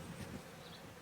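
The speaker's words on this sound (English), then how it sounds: "there's a lot of bees in here, but there's not a swarm" Bees buzzing inside a swarm-catching bait box scented with lemongrass, a brief, faint, steady hum of many insects.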